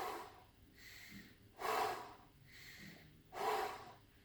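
Slow, deliberate breaths drawn in through the nose and pushed out through the mouth, two full cycles with soft sniffing inhales and stronger, breathy exhales, close and quiet.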